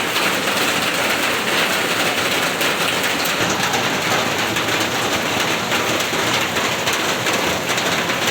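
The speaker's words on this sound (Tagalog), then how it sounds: "malakas ang ulan" Heavy rain pours down steadily in a dense, unbroken hiss that stays loud and even throughout.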